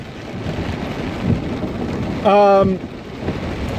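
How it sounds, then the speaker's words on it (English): Heavy rain drums steadily on a car during a drive, a dense close patter with a brief tonal beep partway through. "I'm yelling over the rain right now."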